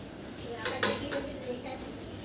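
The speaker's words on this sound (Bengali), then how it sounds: "এবার চাপা দিয়ে দেবো" A lid set onto a cooking pot of Bengali-style ol chingri curry with elephant foot yam and prawns, a few light metallic clinks and knocks over a steady simmering hiss, near and moderate, with no talking.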